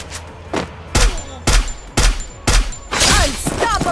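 Rapid bursts of gunfire in Garena Free Fire, loud and close, arriving in about six sharp volleys roughly half a second apart, with a denser burst and metallic pings near the end.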